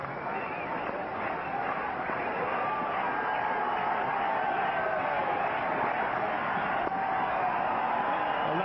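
Sustained crowd roar and applause at a 1998 Sharjah cricket match against Zimbabwe, an ovation for Sachin Tendulkar reaching his century; a steady, dense wash of cheering and clapping that holds level throughout without a break.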